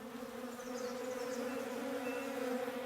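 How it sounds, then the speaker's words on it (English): Bees buzz in a tree in the Above Snakes video game, a steady, droning hum that holds on without break, moderately close and fairly quiet. "Right, there are bees in this tree."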